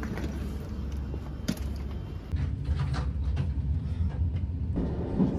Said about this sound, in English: my train was assigned to platform B and arrived on time